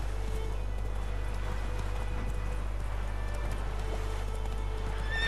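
Roach the horse galloping in The Witcher III, a steady clip-clop of hooves with an occasional whinny over a constant low game ambience.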